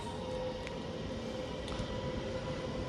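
A Class 323 electric train at Cheadle Hulme station heading to Manchester Piccadilly gives a steady hum with a sustained electric whine, moderately loud and even throughout the short stretch.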